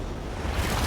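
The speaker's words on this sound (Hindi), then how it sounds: "ये आई बड़ी लहर।" A big ocean wave rolls in toward swimmers just off a small island, a brief, broad wash of surf with a swelling rush at the end, close and fairly loud, with no voices.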